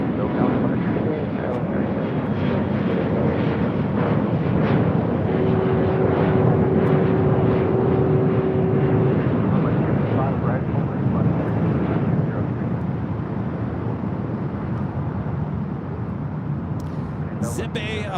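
A Boeing 737 MAX 8 jet roars steadily on departure from runway 25 right at LAX, a loud, sustained rumble with wind buffeting, while a voice talks over it.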